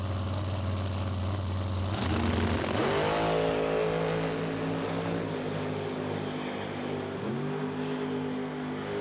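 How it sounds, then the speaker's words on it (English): A dragster tears down the strip at Mission Raceway, its engine note sweeping sharply upward and then holding a loud, rising howl through several gear-like steps, with no talk. "Dan Provost in the other lane in the Dragster"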